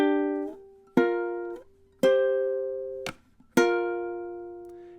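A ukulele plays measures 7 and 8 of a song as five separate strummed chords, each ringing out and then muted, with short rests between them.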